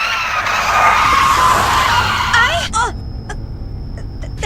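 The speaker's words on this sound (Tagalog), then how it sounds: "Nawalan yata ng preno ang bus." A bus that has lost its brakes skids, its tires squealing in a loud wavering screech over road rumble before it cuts off abruptly into quiet, followed by faint scattered clicks and a thin high tone.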